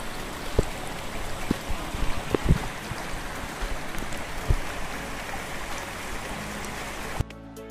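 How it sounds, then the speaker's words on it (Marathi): A large forest stream on the Panhala to Pavankhind trek rushes in a continuous broadband wash, with occasional sharp splashes and knocks as someone wades through it. "हा आहे दुसऱ्या दिवशी पैकी लागणारा सर्वात मोठा ओढा"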